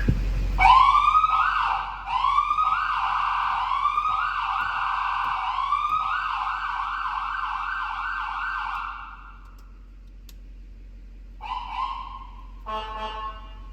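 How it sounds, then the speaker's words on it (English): A 2010 Chevrolet G4500 ambulance's loud wailing siren cycles through rising and falling sweeps for about nine seconds, then cuts out, followed by short bursts of a different electronic warble. "Siren does work."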